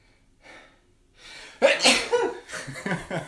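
A close, sharp sneeze bursts out after a few quiet breaths, followed by a couple of smaller breathy sounds.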